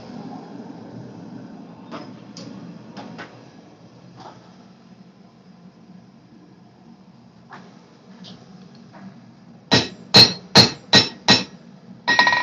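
A 20 layer Damascus steel billet is struck by hand with a hammer: scattered single ringing blows at first, then a quick run of five or six loud, evenly spaced metallic strikes near the end, over a low background hum.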